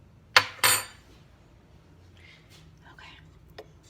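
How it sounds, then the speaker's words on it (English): A metal spoon is pulled from cutlery in a kitchen with two sharp clinks, followed by faint rustling and a soft tap, close and quiet. "Let me get a spoon."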